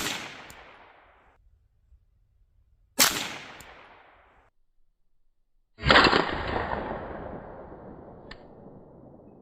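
Three sharp rifle shots from .22 LR, .22 WMR and .17 HMR rifles fired at a soda pop can, each a loud crack followed by a long outdoor decay, spaced a few seconds apart, no voices.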